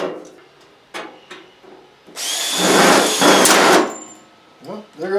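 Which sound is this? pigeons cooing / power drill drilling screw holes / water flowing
power drill drilling screw holes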